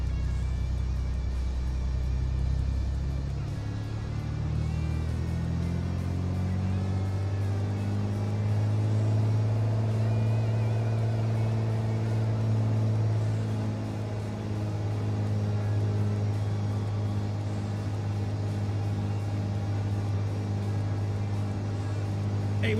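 A propeller aircraft engine in a flight simulator winds up from a low idle to a steady 2000 rpm run-up, its droning hum rising over several seconds and then holding evenly and loud, with no talking.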